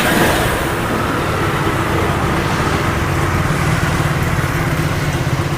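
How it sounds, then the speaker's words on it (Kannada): A Bajaj Pulsar 220 motorcycle engine idles near the listener after a full engine rebuild, a constant loud mechanical drone with an even, unbroken throb. "ಇಂಜಿನ್ ಸೌಂಡ್ ಕೇಳ್ಬೋದು ಹೆಂಗಿದೆ."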